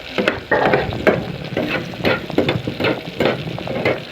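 Eggplant omelette (tortang talong) with green chili fries in a pan. Oil sizzles steadily and close, broken by repeated scraping stirs and clatters, with no voices.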